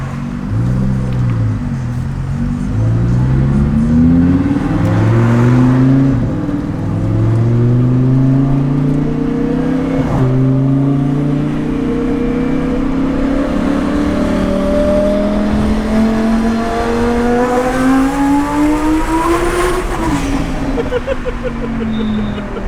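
A twin-turbo Lamborghini Huracan V10 of about 800 wheel horsepower, loud and close, its engine rising through repeated hard accelerations with climbing revs, gear changes and a sustained high-pitched turbo whine.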